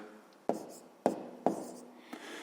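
A close, quiet answer written by hand during a fifth-grade math lesson, with three distinct pen taps and short scratches followed by faint rubbing and no speech.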